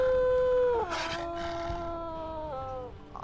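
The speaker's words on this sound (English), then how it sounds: "We'll do our little morning howl for the day." Wolves in the video game WolfQuest give a morning pack howl: a long sustained tonal howl that drops in pitch, then overlapping voices join in with layered, wavering howls, loud and close.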